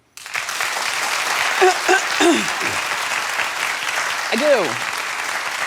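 A daytime talk show's studio audience breaks into sustained applause and clapping, with a few voices calling out over the steady roar of hands.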